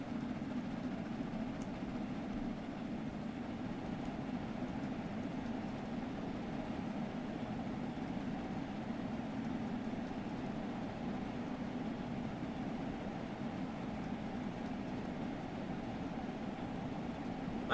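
A train in the video game Train Sim World 4 accelerates, a steady low rumbling drone with a broad hum that holds level and continuous throughout, with no talk over it.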